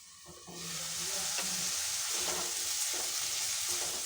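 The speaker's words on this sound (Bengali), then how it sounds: "কিছুক্ষণ ধরে নাড়াচাড়া করে মাংসটা ভালো করে কষিয়ে নেব।" Meat being stir-fried and browned in a pan, a loud continuous sizzle that swells after a brief quieter start, with occasional scraping stirs.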